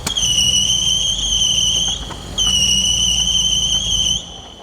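A BMW E46 Clubsport engine misfiring on its throttle bodies during a road test, a low uneven rumble broken by sharp popping cracks, with a steady high belt whine above and a short gap midway before it resumes.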